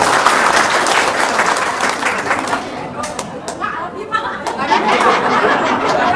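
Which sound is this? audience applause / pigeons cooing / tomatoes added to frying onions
audience applause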